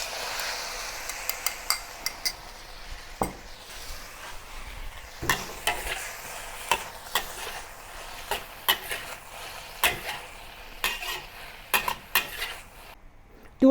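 Broccoli, mushrooms and bell pepper stir-fried in stir-fry sauce, a steady close sizzle broken by frequent sharp clacks of a utensil scraping and tapping the pan in an irregular rhythm, with no talking.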